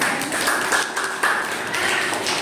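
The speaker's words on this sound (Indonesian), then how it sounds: "Oke, tepuk tangan." Scattered hand clapping from a classroom group after a student physics presentation, steady and moderately close, with uneven bursts and no voices over it.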